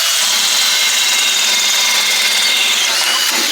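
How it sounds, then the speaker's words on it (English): An old Snap-on hole saw cuts through thick material, giving a loud, continuous, close-up high grinding whine that keeps up steadily without pause. "That is an old Snap-on set of hole saws that I got."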